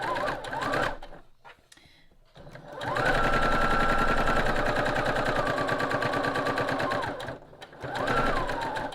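Sewing machine stitching strings of fabric scraps for string block quilting, a close rapid mechanical whir in two or three bursts, with short pauses between runs.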